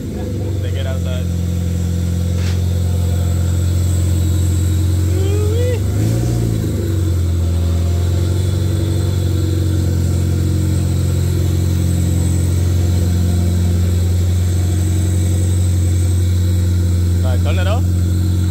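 A Toyota 2ZZ engine fitted with open headers and no muffler runs steadily outside a garage, a loud, constant rumble lasting throughout, with brief talk near the start and end.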